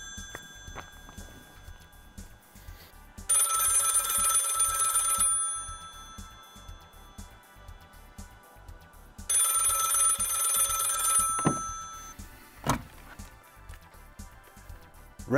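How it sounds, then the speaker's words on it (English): A telephone bell rings in two long bursts separated by a pause, loud and close, with quiet background sounds between rings. "The phone is ringing."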